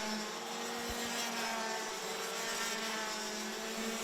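Rotax DD2 and DD2 Masters racing karts in a Rotax Euro Trophy final at Kristianstad, engines droning steadily at a distance with a continuous buzzing whine and no voices.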